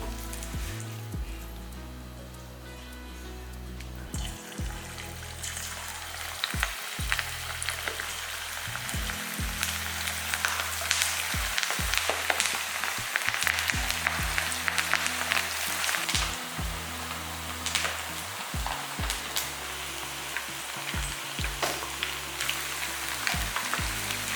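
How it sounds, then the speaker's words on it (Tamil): Chilli-powder-coated chicken deep-fries in sizzling oil, crackling steadily, with occasional low thumps and clatters of utensils nearby. "இப்போ எடுத்து சிக்கன் பொரிச்சிடலாம்"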